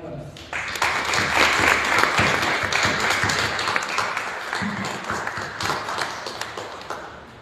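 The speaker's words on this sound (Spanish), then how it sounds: "Vamos a brindar un aplauso para la memoria del maestro Román Güemes." An audience at an annual huapango festival in Amatlán applauds in memory of a late maestro, dense clapping swelling then tapering over several seconds, a voice briefly audible near the end.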